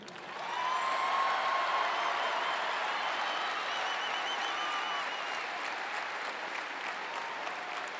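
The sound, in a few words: audience applause at basketball senior ceremony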